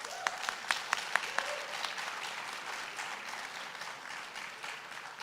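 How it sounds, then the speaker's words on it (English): A town hall audience in a hospital meeting claps steadily for the management team, a few sharp near claps standing out at the start before the applause settles into a soft, continuous patter. "You can hear from that clap of hands that people are appreciating you"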